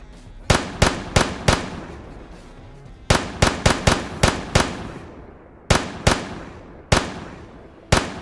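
Sharp pistol shots from a game weapon in an Unreal Engine 5 build, fired in quick irregular bursts of two to five cracks with short gaps between, each loud and crisp with a brief decaying tail, no talking over them.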